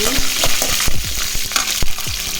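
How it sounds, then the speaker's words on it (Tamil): Mustard seeds crackle and sizzle in coconut oil heated in a kadai, a steady loud frying hiss broken by sharp pops and spatters, close up with no voices. "அடுப்பில் ஒரு கடாய் வச்சுக்கோங்க அந்த தேங்காய் எண்ணெய் ஊற்றிக்கலாம் கடுகு போட்டுக்கலாம் கடுகு போட்டு லைட்டாக வதக்கி"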